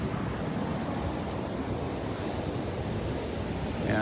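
Ocean waves break and wash over rocks on a beach after a supermoon, making a steady, close, continuous surf roar with wind rushing across the microphone and no voices.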